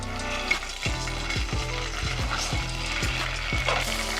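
Chili garlic sauce sizzles and fries steadily in a hot pan, with rhythmic stirring scrapes at regular intervals, close and continuous, no voices.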